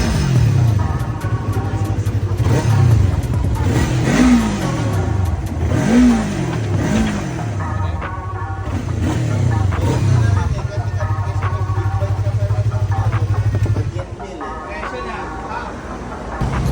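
A Britol motorcycle with a pro-arm swingarm idles close by, then revs in a few rising and falling sweeps before settling back to a steady idle.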